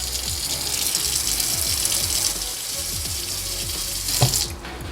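Water from a sink tap runs steadily onto an OmiStout hair catcher drain stopper, a close, continuous splashing gush with gurgling pulses and a brief louder splash near the end, no voices.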